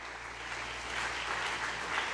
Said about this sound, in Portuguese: Vamos aplaudir o nosso Deus de graça